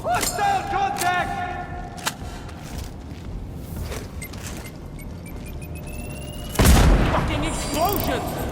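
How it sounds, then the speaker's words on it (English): A loud, close explosion bursts out partway through a Sniper Ghost Warrior Contracts 2 game scene, followed by a lingering rumble, with game voices and scattered effects heard before it. "Fucking explosion!"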